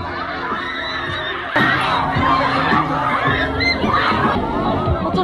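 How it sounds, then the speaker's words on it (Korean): Crowd of riders screaming and shrieking on a fast-spinning fairground ride at a Christmas in the Park music festival, a dense continuous wash of mixed voices that swells louder partway through. "어, 비명소리 대박."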